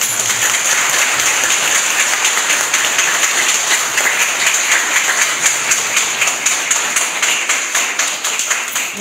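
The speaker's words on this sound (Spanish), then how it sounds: "un fuerte aplauso para los demás" An audience at a tribute ceremony for retired teachers claps in sustained, dense applause that stays loud and steady before slowly thinning toward the end.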